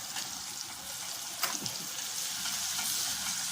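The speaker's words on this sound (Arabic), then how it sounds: "نقلب المكرونه كده نديها تقليبه كده حلوه" Macaroni being stirred in a hot pan with onion-flavoured oil for koshari, a steady close sizzle and crackle running throughout with a few brief scraping knocks from the utensil, and no voices.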